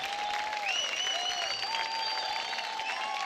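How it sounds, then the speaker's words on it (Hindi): Studio audience applause on a TV dance competition show, steady dense clapping with some cheering carrying on without a break, loud and close, with no talk over it. "जोरदार तालियां हो जाए"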